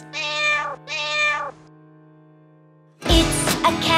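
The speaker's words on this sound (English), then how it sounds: "It's a cat." A cat meows twice in short, clear calls, each about three-quarters of a second long, with a brief pause between them. A louder, busier burst of sound follows after a quiet gap.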